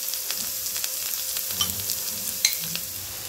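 Green chilies and salt frying in a hot pan for a homemade puffs filling, a steady sizzle with scattered scraping stir strokes and a couple of sharper clinks, no talking.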